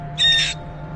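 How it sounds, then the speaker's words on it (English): A parrot lets out a single short, shrill, high-pitched scream, loud and close against a quiet background hum. "Look at the screams, the high-pitched screams."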